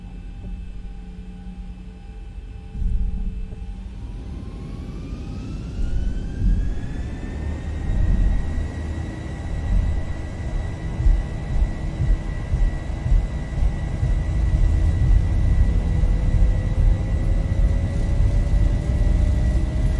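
Airliner jet engines spool up on the takeoff roll in X-Plane 11: a rising whine climbs after about 4 seconds over a deep rumble, then holds steady and loud as the roar builds, with no talk.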